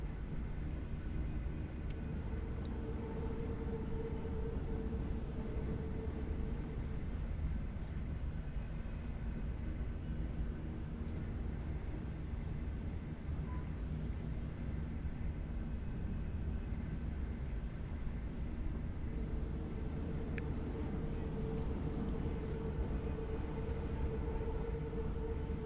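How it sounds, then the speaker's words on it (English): Subway train rolling through a tunnel in Subway Simulator 2, overtaking another train, with a steady loud rumble of running gear and motors and faint tonal whine rising and fading, no talking. "there's the train we've been following all this time"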